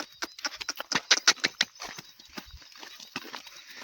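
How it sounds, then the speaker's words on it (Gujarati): A young horse in training walks on a rope, its hooves giving a quick, uneven run of sharp clip-clop knocks close by, followed by softer, more scattered steps. "ઘોડો"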